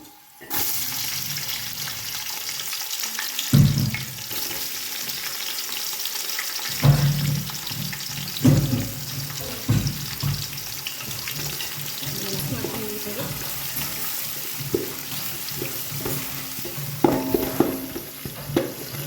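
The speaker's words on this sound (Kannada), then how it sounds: "ಆನಿಯನ್ ಎಲ್ಲ ಫ್ರೈ ಆಯಿತು" Onions sizzle in a pan for mutton biryani with occasional scraping stirs, close and continuous, a few louder clatters of the utensil against the pan.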